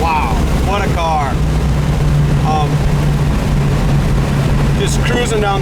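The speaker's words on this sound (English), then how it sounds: "Just cruising down the highway as quick as we could go." A 1970 Chevelle SS with a 4-barrel carburetor cruises on the highway, its steady low engine drone and road rumble running continuously beneath intermittent speech.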